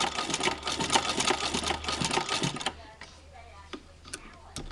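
A Singer 15-88 sewing machine with a zigzagger attachment stitches fabric, giving a fast, close rhythmic clatter. It runs for about three seconds, then stops, leaving scattered light ticks and clicks.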